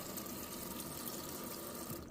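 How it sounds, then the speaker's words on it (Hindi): Cold water runs steadily from the tap inside a caravan after its water motor is switched on, a continuous hissing flow that stays even and fairly close with no talk over it. "इस मोटर को देखो ऑन करूँगा ना तो ये देखो पानी चालू हो जाएगा।"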